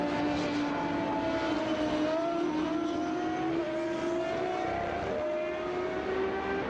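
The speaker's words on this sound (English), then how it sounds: "You just think the engine's going to explode. It sounds so good." A loud racing engine screams at high revs during an SVRA Group 9 race at Watkins Glen, its steady whine climbing gradually in pitch with no pauses and no talking.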